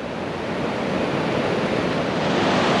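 Ocean surf at Huntington Beach, California, a continuous broadband roar of waves with some wind buffeting on the microphone, steady and fairly loud, with no voices.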